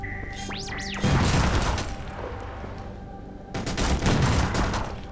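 Armor-piercing gun in the video game E.Y.E. Divine Cybermancy fires two loud, close blasts about two and a half seconds apart, each with a crashing impact and a long rumbling tail.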